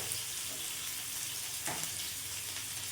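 Boiled potatoes fry in hot oil for aloo bhuna, giving a steady, close, even sizzle throughout with a brief stirring rustle partway through.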